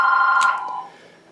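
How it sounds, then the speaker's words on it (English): A telephone bell rings once, a bright metallic trill that rattles briefly and decays within about a second, heard clearly with no talk. "Phone rang."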